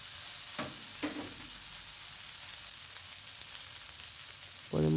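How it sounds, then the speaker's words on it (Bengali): Khesari greens sauté in a pan, a faint steady sizzle with a couple of soft stirring scrapes and a sharper clatter at the very end, close and without talk. "শাকগুলো টেনে নিব।"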